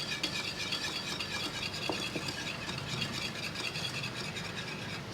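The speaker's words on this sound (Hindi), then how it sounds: "दही को अच्छे से हम फेंट लेंगे।" Yogurt mixed with chaat masala is whisked in a bowl for raita, making a continuous close scraping, stirring sound with a quick, even rhythm and no talk.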